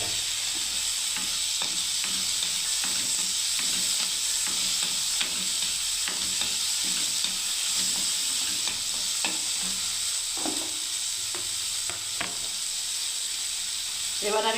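Chopped tomatoes fry with ridge gourd in a pan, giving a steady loud sizzle and hiss throughout, broken by repeated scraping taps of stirring.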